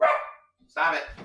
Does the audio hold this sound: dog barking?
yes